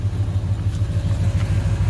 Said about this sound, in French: Le voilà au ralenti.